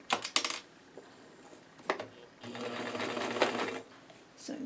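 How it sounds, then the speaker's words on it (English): Sewing machine stitching close along a garment's neckline edge in short bursts and one longer steady run, with quiet clicks between and a voice speaking briefly. "Sewing very close to the edge."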